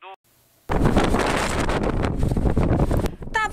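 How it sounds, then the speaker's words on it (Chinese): Strong rain-laden wind gusts buffet the microphone at Hehuanshan mountain during a typhoon, roaring loudly and continuously with a roughened blustery texture after a brief quiet start; a voice is briefly heard at the beginning and end. "呼呼的吹，把机车吹倒了。"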